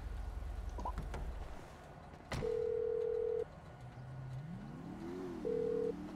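Phone ringback tones from a call placed in Grand Theft Auto V, two long steady beeps separated by a pause, heard over a low car engine hum that rises and falls in pitch.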